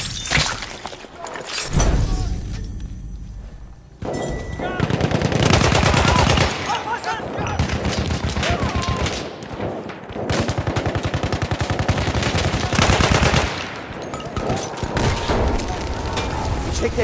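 Loud, dense gunfire in Battlefield 1 during a Conquest multiplayer match on the Argonne Forest map: sustained rapid-fire bursts with sharp cracks and shattering impacts, with brief lulls between them.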